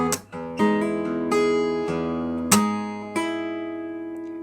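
A guitar rings with a nail attack followed by notes plucked with the right middle finger, a series of six or so clear close notes each sustaining into the next.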